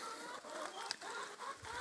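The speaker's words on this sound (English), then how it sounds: "we have so many other chickens coming in" Chickens in a backyard run cluck continuously in a busy overlapping chorus, moderately close, with no one talking.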